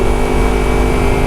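A steady, close engine drone, most likely a 250R motorcycle nicknamed Mamba with a Laserbit Evo 1 full-system exhaust, running loud and even throughout with no speech.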